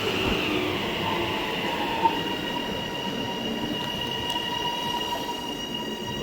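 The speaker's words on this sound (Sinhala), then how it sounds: "ට්‍රේන් එක ඇතුළට ගිහලා පෙන්නනවා ඔයාලට" Inside a moving passenger train in Melbourne, Australia, a steady rolling rumble carries thin, sustained wheel-squeal tones, with a single sharp click partway through. No one speaks.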